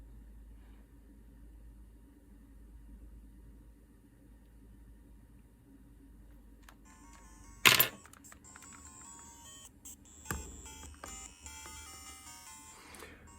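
A repaired pink Game Boy Color plays Tetris through its speaker, with faint electronic tones and beeps starting after a quiet hum and a sharp click, coming back in short bursts.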